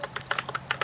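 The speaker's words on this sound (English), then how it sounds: "Someone is typing very loudly, so I cannot hear." Loud, rapid typing on a computer keyboard, clusters of sharp clicking keystrokes in an irregular rhythm, close and clear, with no speech.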